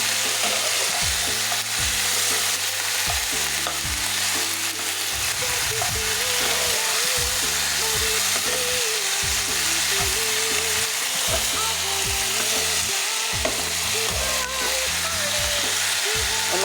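Pumpkin leaves and jackfruit seeds frying with turmeric and salt, a loud, dense sizzle that runs without a break while a utensil scrapes and stirs through the pan in a busy, repeated rhythm, close up.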